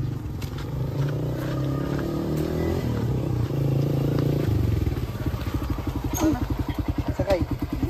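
A motorcycle engine runs steadily nearby, its low rumble growing rougher and pulsing toward the end, with a voice talking over it now and then.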